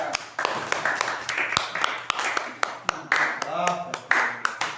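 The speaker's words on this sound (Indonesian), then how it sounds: "Tepuk tangan untuk kita." A group in a classroom claps in scattered, uneven bursts of sharp hand claps, mixed with people talking throughout.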